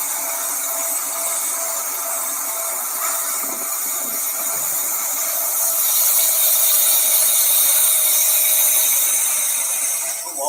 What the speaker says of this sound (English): I also had some small video clip for plunge grinding.